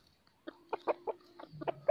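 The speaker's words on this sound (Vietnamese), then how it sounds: "đây là gà S3" An F3 jungle-blood rooster gives a short series of close, distinct clucks, about half a dozen quick calls in under two seconds in quiet surroundings.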